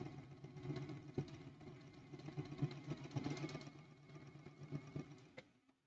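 Domestic sewing machine stitching pieced quilt blocks, a quiet mechanical whir with rapid needle taps in short bursts, close and alone, trailing off at the end.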